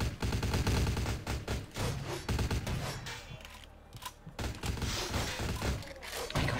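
Gunfire in the game Vampire The Masquerade Bloodlines comes as dense, rapid volleys of sharp shots and thuds, a brief lull in the middle, then more shots resuming near and loud.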